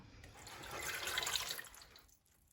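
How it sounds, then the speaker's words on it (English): Water mixed with food coloring pours steadily into a pot in a continuous splashing stream for about two seconds, then tapers off to a quiet trickle, close by. "put the food coloring and water mixture into your pot"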